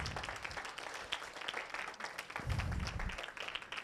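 A church congregation claps during a service, a quiet and somewhat distant patter of applause with a few sharper individual claps and low rumbling room noise underneath.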